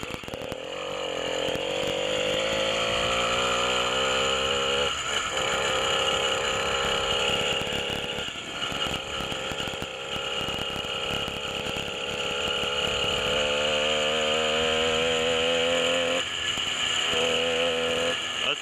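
An 80cc engine on a motorized bicycle, leaking oil, runs steadily while being ridden, a loud, buzzing two-stroke drone that rises and falls with throttle changes throughout.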